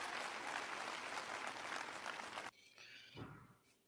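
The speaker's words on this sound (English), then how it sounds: "I'm surprised that the crowd is actually like clapping and cheering for that." An audience bursts into loud, dense applause and cheering, a steady roar of clapping that cuts off abruptly after a couple of seconds, followed by a brief murmur and faint voices.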